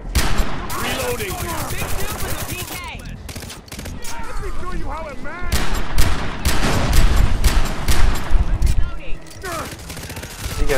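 Heavy gunfire in a co-op session of the shooter Far Cry 3, with loud, rapid shots and bursts crackling throughout and people talking over the shooting.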